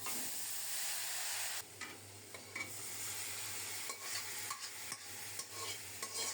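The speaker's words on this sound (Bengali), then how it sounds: "কালো জিরা ফোড়নে দিলাম" Black cumin seeds tempering in hot oil, ready for greens, make a soft, low-level sizzle with faint stirring scrapes and light taps scattered through it, and no voices.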